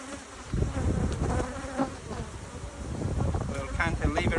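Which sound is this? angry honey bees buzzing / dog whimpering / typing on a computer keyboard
angry honey bees buzzing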